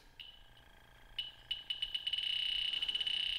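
Fieldpiece SRL8 refrigerant leak detector sounding on an R-410A leak: a high electronic tone starting as sparse beeps, then speeding into rapid pulses and merging into a steady continuous alarm, close and loud, with no talking.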